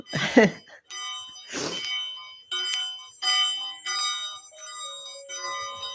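A bell rings out in repeated strikes, each tone clear and ringing before fading, about six strokes spaced roughly evenly, with a couple of soft vocal sounds near the start.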